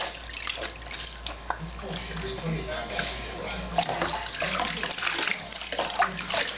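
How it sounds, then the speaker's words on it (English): Water pours and splashes steadily as a child's hair is rinsed during a bath, a close continuous wash with small sloshes. "Let me rinse your hair."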